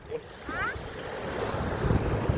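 Ocean surf rolls steadily at Caba Beach, La Union, Philippines, with a continuous wash of waves and heavy wind buffeting the microphone, and a faint voice briefly underneath.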